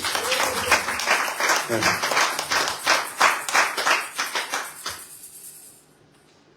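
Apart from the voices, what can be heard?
audience applauding at a prayer retreat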